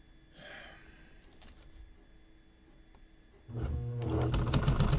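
A sewing machine stitches a zigzag on a laptop bag, with soft handling noises and a breath at first, then the motor starts loud and close in a fast, steady needle rattle.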